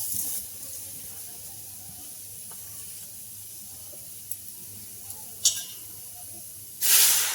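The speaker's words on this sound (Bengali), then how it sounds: "অল্প জল দিয়ে দেবো, প্রায় 1 কাপের মতো।" About a cup of water is poured into a karahi of spices being boiled for a vegetarian taro kofta curry. A faint background hiss with a few small clinks ends in a sudden loud, hissing splash.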